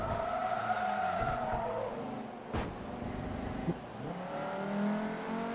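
Tires squeal and skid as a car slides off the track in the Forza Motorsport 3 racing game: a sustained screech over droning engine noise, with a sharp whoosh in the middle.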